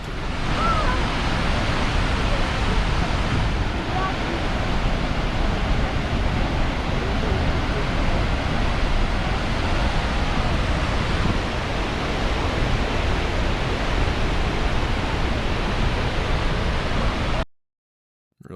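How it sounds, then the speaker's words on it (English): Waimoku Falls on the Pīpīwai Trail in Maui, swollen after heavy rain, a powerful, steady roar of falling water heard close and loud and unbroken, with no voices over it, cutting off abruptly at the end. "it was just a trickle of a waterfall compared to this right now"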